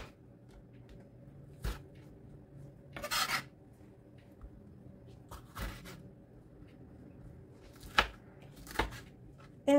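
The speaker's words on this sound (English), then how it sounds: "I'm just going to cut them in small pieces." Knife chopping jalapeños into small pieces on a cutting board in a home kitchen, a few sparse, quiet thuds and scraping cuts spread irregularly over a faint background.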